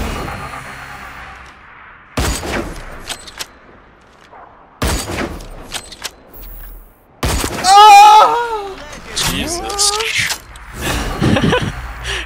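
Gunfire in Hyper Scape comes in loud, sharp bursts, several separated volleys with quiet gaps between them, mixed with other game sound effects and a talking voice.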